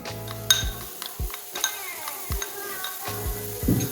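A spoon stirs semolina mixed with khoya in a pan, making repeated scraping strokes and clinks against the metal over a soft frying sizzle, with no voices.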